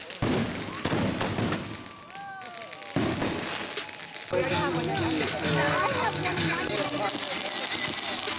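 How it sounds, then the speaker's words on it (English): Fireworks burst in a rapid, crackling series of loud pops and bangs, some near and some farther off, with a whistling streak at one point and people talking and exclaiming throughout. "Fireworks, am I right?"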